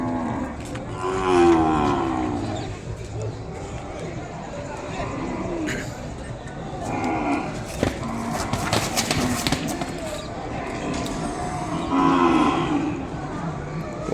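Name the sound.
Ongole cattle mooing at the Kodada market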